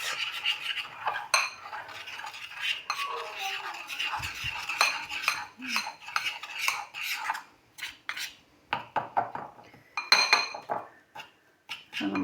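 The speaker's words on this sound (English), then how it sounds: "And just give that a bit of a mix." Icing sugar, cocoa and melted butter being mixed in a bowl, a spoon scraping and clinking rapidly against the sides in uneven bursts with short pauses, close and fairly loud.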